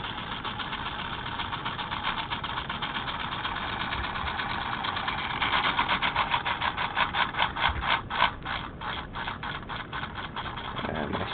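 A homemade solenoid motor running with its flywheel turning, a steady buzzing hum with rapid rhythmic clicking pulses that become more distinct and pulsing partway through, close and alone.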